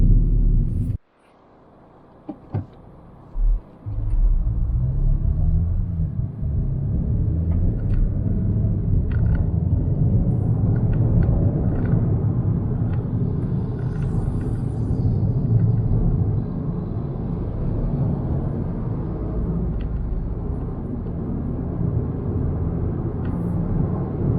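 A 2021 Suzuki Swift Sport with a 1.4 turbo engine drives along, heard from inside the cabin. A short thump opens the clip, then a steady low road and engine rumble carries on with no talking.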